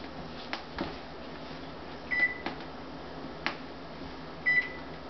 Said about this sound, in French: préchauffez votre four à 350 degrés